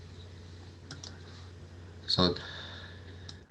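A microphone's power switch is flicked off and on, giving a few short clicks, including one sharper, louder snap, over a quiet room hum while a voice briefly speaks.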